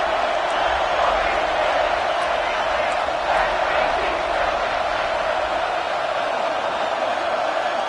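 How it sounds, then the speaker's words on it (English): A college football stadium crowd roars on third down, a dense, steady wash of cheering and noise with no let-up. "Third down and the crowd really getting into it."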